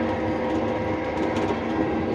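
A train rolls past on a railway nearby, a steady, loud rumble of rail cars with a faint clickety-clack running throughout and no voices.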